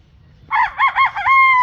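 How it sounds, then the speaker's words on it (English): A chicken roosting in a tree branch in a Wisconsin garden on an early morning lets out one loud, close crow lasting just over a second, with stepped, wavering notes ending in a held tone. "Look at those chickens roosting."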